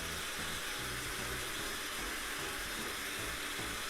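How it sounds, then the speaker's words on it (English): A blender whirs steadily, pureeing about 500 grams of mango pulp into a smooth mix, a constant loud motor roar and churning wash that runs unbroken with no voices. "And now I'm going to blend in a blender"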